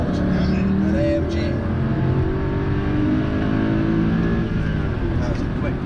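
Mercedes-AMG C63 driving hard on the Nürburgring, a loud, steady engine drone with rising and shifting harmonics heard from inside or close by, continuous for the whole stretch, with faint voices underneath.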